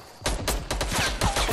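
Gunfire in the Fortnite battle royale game rattles off in a rapid string of sharp shots, several evenly spaced cracks within about a second, loud and close with no speech.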